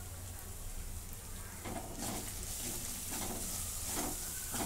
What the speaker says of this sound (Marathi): आता जरा परतून घेते.